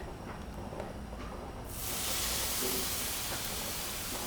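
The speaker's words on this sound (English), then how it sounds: "I have my outdoor grill heated to medium-high heat. I'm going to add in the chicken." After a quiet stretch, a loud, bright sizzle suddenly bursts up as chicken hits an outdoor grill heated to medium-high and keeps hissing steadily.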